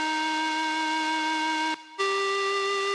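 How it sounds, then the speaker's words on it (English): A dry, plain synth lead without its rhythmic shaping effect, holding one steady bright note, briefly cutting out, then sustaining a slightly higher note; loud and continuous with no talking. "this is how it sounds without the shaper box"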